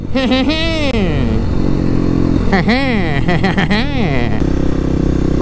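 A Kawasaki KLX300 dual sport motorcycle riding through suburban streets, its single-cylinder engine loud and close, repeatedly revving up and dropping as the rider shifts and rolls off through corners, with someone talking over it.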